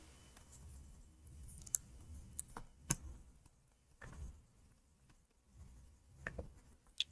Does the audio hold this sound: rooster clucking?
no